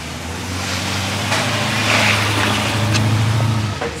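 An old Aston Martin passes on a Monaco street with a low engine rumble that rises and then eases over a few seconds. Faint traffic and street noise sit behind it.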